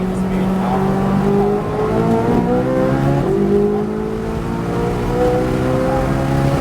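Ferrari engine accelerating at speed, its tone fairly subdued and steady, rising in pitch in several stages as it pulls, with no talk over it.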